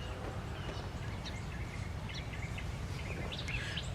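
Birds chirp and call intermittently ahead of a storm, faint scattered tweets over a steady low rumble of background noise.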